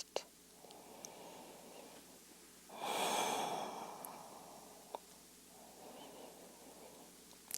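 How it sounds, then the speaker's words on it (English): Slow, relaxed breathing during a yoga session, heard as soft airy breaths that swell into one fuller, longer exhale near the middle, with faint clicks in a quiet room. "And if all is well, chill out breaths. slow, relaxed."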